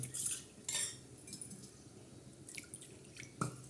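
A spoon stirs a thin mixture in a metal pot, giving a few distinct clinks and scrapes against the side with wet, quiet swishing between them. No one speaks.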